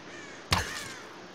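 A single crow caw rings out sharply and fairly close in the Tomb Raider video game, brief and alone against a quiet background.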